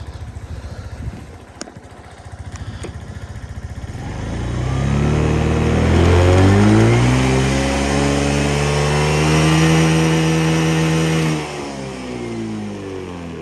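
A Suzuki Address V125 S scooter engine idles quietly, then revs up into a loud, rising drone that holds for several seconds before dropping back sharply to a lower steady running note.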